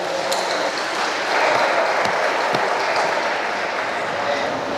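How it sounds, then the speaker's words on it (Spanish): Applause for newlyweds Rosario and Osiel at a church wedding ceremony in San Agustín Oapan, a steady, dense wash of clapping from the gathered guests that holds for several seconds. "Les damos un aplauso para que se quiten la pena."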